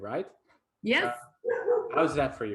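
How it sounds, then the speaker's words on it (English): Several dogs bark and yip in short bursts in a home setting, close to the microphone, mixed in with people talking remotely. "As you can see, I have some dogs, so it's like, oops, sorry for the dogs"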